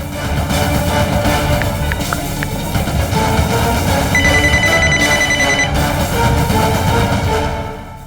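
A telephone rings with a repeated electronic tone over a busy, dense background, steady and fairly loud for several seconds.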